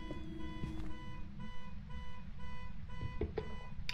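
Electronic alarm beeping in the co-op horror video game Phasmophobia, a steady repeating tonal beep pattern sounding continuously at moderate volume with a few faint clicks and movements underneath.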